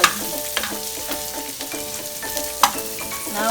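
Onion stir-fries in a pan for Filipino pancit canton, a steady close sizzle with occasional sharper crackles and scraping, with no talking.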